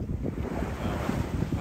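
Steady wind gusting over a sailboat cruising the Albanian coast toward Durrës, a continuous broadband rush with low buffeting, alone with no voices.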